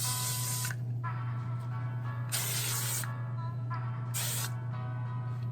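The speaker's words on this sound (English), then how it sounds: "I'm gonna finish with a lightweight hairspray just to give my hair some memory" Three short bursts of aerosol hairspray hiss close by, evenly spaced, over a low steady hum.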